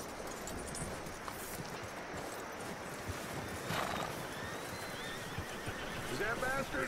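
In the Red Dead Redemption 2 video game, a horse whinnies and its hooves clip-clop over a busy game soundscape, with a few brief louder neighs, fairly faint under the mix.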